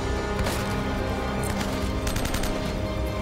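Gunfire in Uncharted: Drake's Fortune, rapid bursts of shots crackling over a dense, loud combat backdrop without pause.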